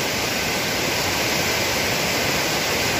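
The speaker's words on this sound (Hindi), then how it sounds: "मतलब जो पानी बह रहा है ना, इसका आप लोग आवाज़ सुने कि कितना मस्त" River water flows beneath an old bridge in a loud, constant rushing roar that stays dense and even throughout, with no voices.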